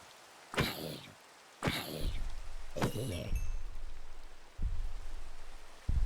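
Steady hiss of rain falling through a forest at night, continuous across the clip, with a few short vocal sounds breaking in over it.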